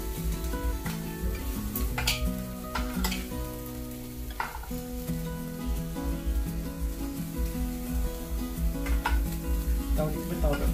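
Tajima-Lamduan wagyu sizzles steadily on a Japanese table-top charcoal grill, with occasional sharp pops and clinks of tongs or utensils against the grill throughout, and faint background music underneath.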